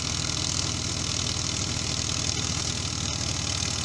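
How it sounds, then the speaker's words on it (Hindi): A tractor engine labours during wheat harvest in a village, a loud, steady close-up drone with a low, rhythmic knocking pulse and no talking. "ये देखे ट्रैक्टर कितना ज़ोर खा रहा है,"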